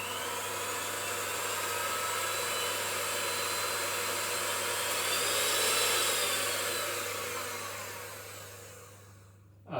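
Electric hand mixer whisking cake batter on slow speed, a steady, faint whirring motor hum that rises and falls slightly before cutting off abruptly.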